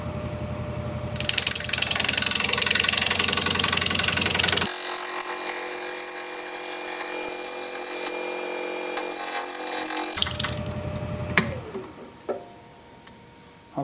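Wood lathe turning a cork oak bowl at raised speed, a loud steady motor whine with broadband hiss that shifts tone midway and drops near the end.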